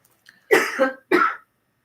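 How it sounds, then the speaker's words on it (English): Two harsh, throaty coughs in quick succession, close and fairly loud, followed by silence. "having a coughing fit"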